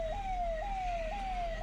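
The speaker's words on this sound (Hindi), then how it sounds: "इसी जाम में देखिए ये एम्बुलेंस फंस जाती है" An ambulance siren wails in a traffic jam, a steady repeating rising-and-falling electronic whoop, fairly close and continuous over a low background rumble.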